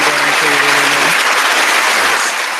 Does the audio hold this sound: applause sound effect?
yes